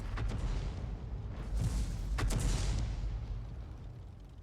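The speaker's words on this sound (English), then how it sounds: "Unfortunately, the enemy Arty seems to be firing in on our guys." Distant artillery shells landing and firing in a tank video game, a few dull booms and sharp cracks standing out over a steady rumbling background, fairly faint, with no talk.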